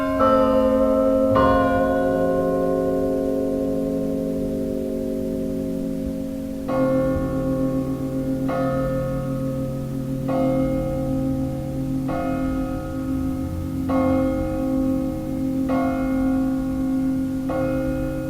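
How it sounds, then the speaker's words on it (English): Church bells recorded from underground in soil ring with deep, sustained harmonic tones, struck in a slow regular series of strikes that blend into a long resonant hum, muffled but clear and continuous with no voices. "this was the sound of the church bells from underground"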